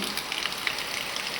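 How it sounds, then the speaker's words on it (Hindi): Heavy monsoon rain falls on a street during the first Monday of Sawan, a dense, even hiss of drops spattering nearby with no voices. "नेक देर में बारिये नाला देखो कितनी भयंकर बारिश हो रही"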